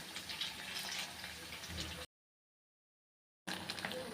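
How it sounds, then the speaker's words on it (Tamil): Sago vada frying in hot oil crackles and bubbles with a dense, steady sizzle up close, broken by a short stretch of complete silence before the frying resumes. "ஒரு சைடு வெந்த உடனே அப்படியே ஜவ்வரிசி வந்து மேலே எம்பிக்கிட்டு வருது பாருங்கள்"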